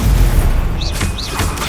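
The Confringo spell in Hogwarts Legacy lands as a deep, close booming explosion with a low rumbling body, a quick burst and brief whooshing swirls trailing off.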